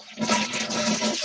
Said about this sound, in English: then flush the toilet